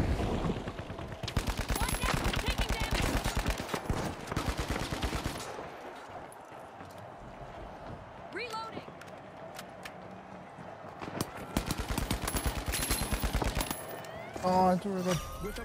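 Gunfire from sniper rifles in The Finals during an Easter event match, sharp repeated shots in dense clustered bursts at the start and again near the end, with quieter game ambience between.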